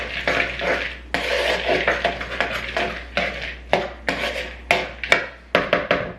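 Pumpkin seeds being tossed with a tablespoon or so of oil in a bowl, giving repeated scraping and clinking strokes of a utensil against the bowl in an uneven rhythm, close and fairly loud with no talking.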